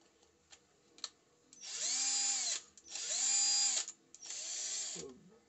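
An IZOM battery-powered drill runs in three bursts of about a second each, whirring up to a steady high-pitched motor whine, then winding down between runs, close and loud, with a few faint clicks before the first burst.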